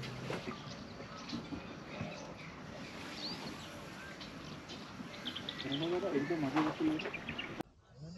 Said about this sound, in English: Now we are entering the grasslands, which are full of birds